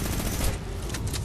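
Rapid gunfire in the Fortnite video game comes as a dense, loud burst of shots over a low rumble and lasts just over a second.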